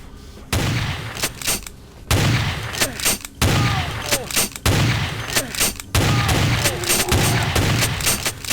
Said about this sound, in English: Vic is just casually using a shotgun in here like it's a friggin' pistol